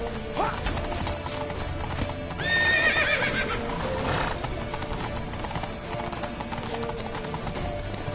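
A horse in a PS4 game gallops with quick, rhythmic hoof clip-clops, then gives a loud neigh midway, over a steady background of game ambience.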